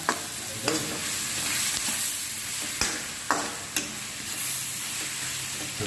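Masala and soya beans stirred in a hot pan, with cauliflower joining the dish: a steady sizzle runs throughout, broken by several sharp spatula scrapes and knocks at irregular intervals.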